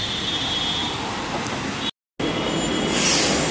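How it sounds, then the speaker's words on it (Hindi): Metro train pulling into a station, with steady loud rolling rumble and rail noise, a brief cut partway through, then a rising hiss as the train arrives. "लो जी, आ गई अपनी मेट्रो,"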